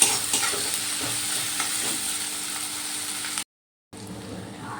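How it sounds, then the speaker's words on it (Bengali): Tomato fries with onion and garlic in a pan, sizzling loudly and evenly up close, broken by a short total silence before the frying resumes. "টমেটোটাও এবার আমি পেঁয়াজ রসুনের সাথে ভালো করে ভেজে নেব।"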